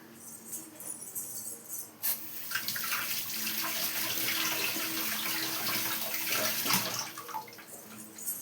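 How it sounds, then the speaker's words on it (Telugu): Water pours into a curry pot in a home kitchen, a steady rushing splash that swells after an initial clink and runs continuously at close range before tapering off. "కొంచెం వాటర్ వేద్దాం."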